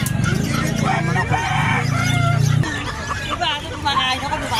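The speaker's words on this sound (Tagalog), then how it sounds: "Yung mga manok." Several chickens clucking and squawking close by at a pet market, with a crowd of people talking in the background.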